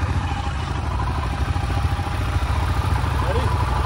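A motorcycle engine runs at a steady idle close by, a rapid rhythmic low chugging with a slight clatter, constant and loud with no pauses, while people talk over it.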